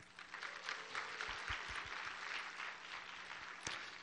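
A church congregation claps through a Sunday evening praise service, with sustained, even applause from a roomful of people and a few sharper individual claps standing out nearby.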